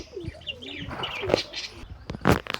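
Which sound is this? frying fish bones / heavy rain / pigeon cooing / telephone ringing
pigeon cooing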